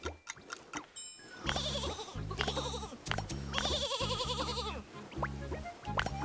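A sheep in the video game Infinity Nikki bleats in long, wavering, repeated calls. The bleats are close and fairly loud, with short clicks and gaps between them.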